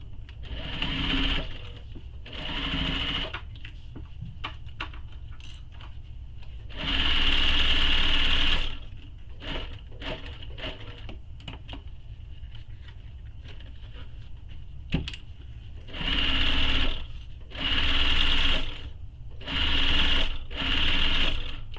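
A sewing machine stitches a faux leather messenger bag in several separate bursts of rapid needle chatter, with quiet handling gaps between runs.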